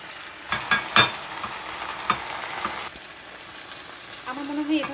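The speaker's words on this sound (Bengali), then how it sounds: "এই সাথে আমার বয়েল করা শিমের বিচিটা আমি একটু ভেজে নেব" Boiled bean seeds fry in spices in a pan for a koi fish curry, hissing steadily up close while a spatula taps and scrapes a few times, and a voice talks briefly at the end.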